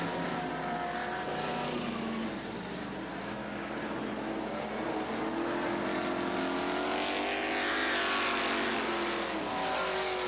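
Race cars battle for position on the oval at Southern Oregon Speedway, engines roaring in a steady, loud drone with rising and falling pitch as the pack sweeps past.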